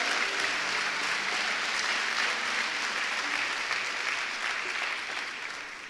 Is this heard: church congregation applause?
yes